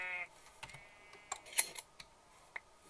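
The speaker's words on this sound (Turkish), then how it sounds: "Siyah koyun." A black sheep in the Minecraft video game gives a short bleat at the start, followed by scattered soft keyboard and mouse clicks.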